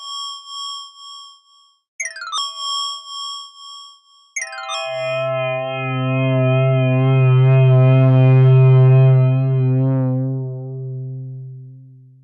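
A Zebra synth patch called Tiddlymoo sounds alone through effects: bright held tones, then two quick chirping pitch sweeps, and finally a swelling, distorted, wavering chord that fades over several seconds.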